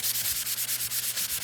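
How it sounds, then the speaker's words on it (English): A sanding block rubs back and forth over wood, a steady rhythmic scratchy rasp of about a dozen quick strokes, close and fairly loud with no talking. "let's just sand it just a little bit"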